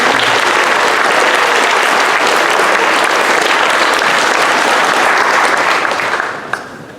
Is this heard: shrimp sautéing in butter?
no